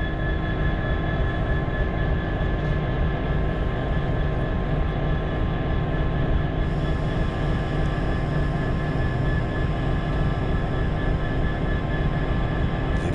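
Diesel locomotive 66793, on a Doncaster to Llandudno working at Wakefield Kirkgate, gives a loud, steady engine drone close by throughout, with a slight shift in tone partway through and no voices.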